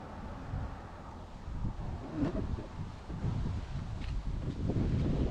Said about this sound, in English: It's getting kind of windy here.